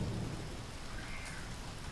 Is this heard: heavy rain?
yes